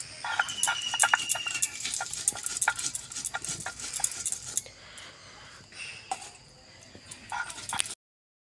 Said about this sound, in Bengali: তো এই যে লঙ্কা জিরে বাটবো